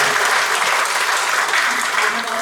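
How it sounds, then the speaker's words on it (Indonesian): A church congregation at a year-end worship service claps together in a loud, dense, sustained burst of applause that fills the room without pause. "Mari tepuk tangan untuk kita semua."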